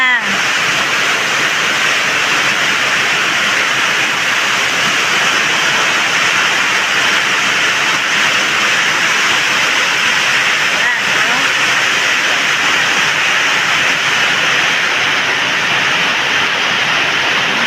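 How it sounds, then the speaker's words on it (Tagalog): Heavy monsoon rain pours steadily without pause, a loud, dense broadband wash with no lulls, close by at a home. "Lakas ng ulan. Ang lakas."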